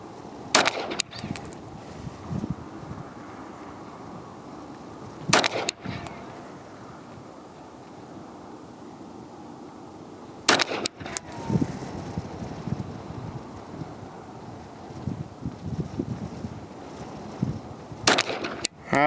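Rifle shots fired at a target while shooting for groups, four sharp loud cracks spaced several seconds apart, each with a brief echoing tail, over a windy outdoor background.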